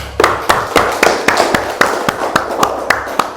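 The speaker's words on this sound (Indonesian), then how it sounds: "Tepuk tangan untuk Helmi" Classmates clap for a student named Helmi after he answers a Quran recitation question in a lesson, giving about a dozen sharp, evenly spaced claps in a steady rhythm close by.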